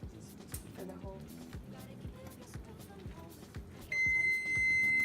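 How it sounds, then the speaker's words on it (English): A steady high electronic kitchen timer beep starts near the end, continuing loudly over a rhythmic clattering background, while making caramel Chex mix. "now the timer has gone off, so we're just going to turn the timer off"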